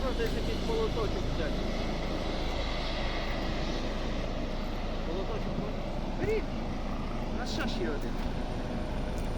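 A rescue helicopter sits near a summer-cottage area in Denmark, getting ready to lift off, its steady engine and rotor rumble filling the scene. The noise holds constant throughout, with faint voices in the background.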